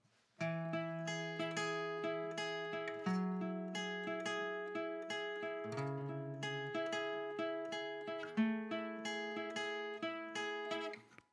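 A guitar plays a short fretted riff high on the neck, with clear plucked notes ringing one after another in a steady, lilting rhythm, close and alone.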